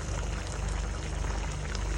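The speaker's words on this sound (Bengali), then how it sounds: "ঝোলটা ফুটে উঠেছে" Hilsa fish curry bubbling at a boil in a pot, a steady, close, continuous burble and low rumble running evenly throughout with no pauses.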